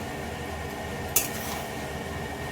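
Spice masala being sautéed and stirred in a pan, a steady low frying hiss with a single sharp clink of a utensil against the metal midway through.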